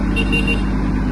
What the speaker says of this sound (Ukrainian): Сигнал працює.